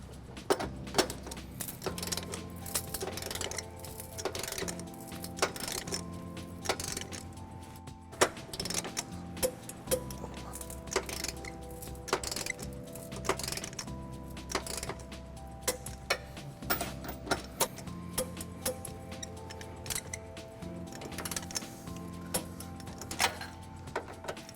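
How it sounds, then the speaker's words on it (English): 19mm socket on an extension tightening trailer hitch bolts on a 2018 Infiniti QX60, a steady, fairly quiet stream of ratcheting clicks and metallic ticks with no talking. "we're going to tighten and torque all of our bolts to the manufacturer specification"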